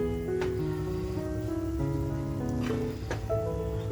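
Minced mutton keema on a hot buttered tawa keeps up a steady, dense sizzle with the gas off, crackling evenly throughout while faint tonal music plays underneath.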